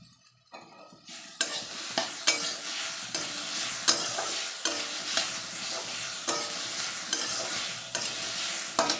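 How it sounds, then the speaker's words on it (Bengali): Bitter gourd pieces frying in a hot pan, a loud continuous sizzle with rhythmic scrapes and knocks of a spatula stirring throughout. "উচ্ছেটা মোটামুটি ভাজা হয়ে গেছে। আর একটু ভেজে নেবো।"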